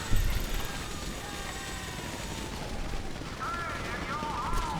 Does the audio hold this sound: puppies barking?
no